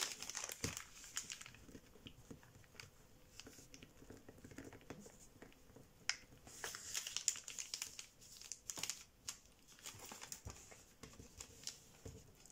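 Sheets of origami paper crinkle and rustle close up as they are folded and creased into an armadillo, with soft scattered taps and sharper crisp crease strokes, quiet and without talk.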